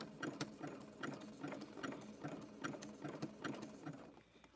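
A sewing machine stitches rope together for an oval rope bowl, running in short rhythmic bursts with sharp clicks, fairly quiet and close.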